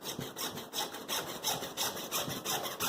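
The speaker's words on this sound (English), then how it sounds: "Just you have to put the cutter in the place of length, and these PVC pipes don't need much strength." PVC pipe for a DIY aquarium canister filter being cut with a pipe cutter, giving a steady run of close, rhythmic scraping strokes, about eight in quick succession, with no talking.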